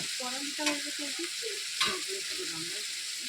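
Boiled banana flower fries with a steady, close sizzle in a pan as a utensil stirs it, a couple of sharper scrapes cutting through the continuous frying hiss.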